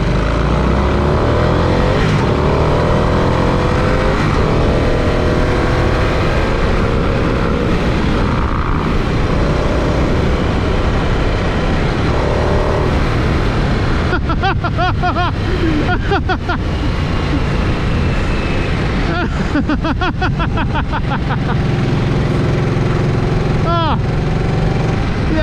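A 2023 Harley-Davidson Nightster Special on a test ride, its engine droning loudly and without a break under heavy wind rush, the pitch rising and falling as the throttle changes.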